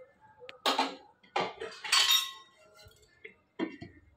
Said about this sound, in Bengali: এখন আমি একটু এটা ঢেকে দিই, টমেটোটা সিদ্ধ হয়ে যায়।